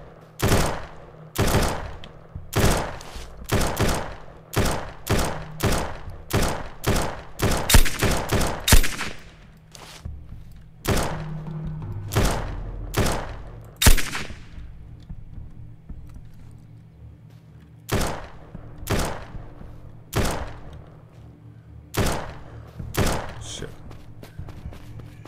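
Rapid gunfire in the survival shooter Surroundead: sharp, loud shots crack out in quick bursts and single rounds, clustered heavily early on and then spaced farther apart, with low thumps underneath.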